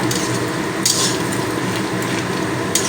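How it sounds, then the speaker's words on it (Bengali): Chopped onions sauté in hot oil with a steady close sizzle, broken by a few brief bursts of louder hissing and stirring. "পেঁয়াজগুলো কিছু সময় কষিয়ে নিলাম তেলের মধ্যে"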